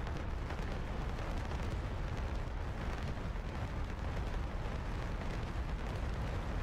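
Skeet munitions detonating in a video game make a dense, continuous roar of rumbling blasts that runs without a break and at steady loudness, with no voices.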